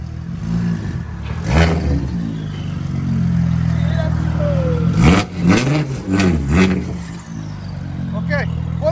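A 2001 Audi S4 with straight-pipe exhaust revs hard and close, rising and falling in several loud bursts over a deep steady idle, with people talking nearby.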